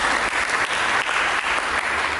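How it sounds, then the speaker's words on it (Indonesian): A church congregation claps together during a sermon, producing a continuous, full burst of applause from many hands, loud and steady with no voices over it. "Berikan tepuk tangan bagi Tuhan"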